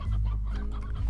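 Chickens on a ranch in the Slime Rancher video game cluck over a low, steady rumble. The clucks are close and come in quick succession through a brief burst.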